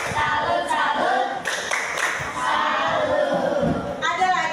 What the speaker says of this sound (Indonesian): Kita tepuk salut buat Sofi yuk